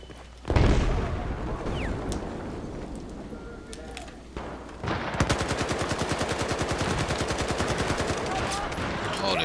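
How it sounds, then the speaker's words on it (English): Battlefield 4 gunfire: a loud, close burst opens, then a continuous stream of rapid machine-gun rounds in an even rhythm takes up the second half, with no voices over it. "the shooting is horrible"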